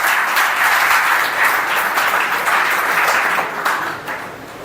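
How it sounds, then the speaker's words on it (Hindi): Loud applause from a live audience at a motivational talk, dense and sustained for several seconds before tapering slightly at the end, with no talking over it. "ताली बजा दो एक बार इनके लिए।"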